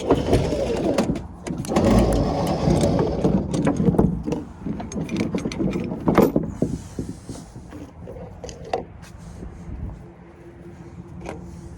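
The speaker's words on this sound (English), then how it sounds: "I'm gonna let this winch off of here" A truck-mounted winch paying out cable, giving a steady mechanical whirring and grinding with sharper clanks and rattles throughout, loudest in the first half and easing toward the end.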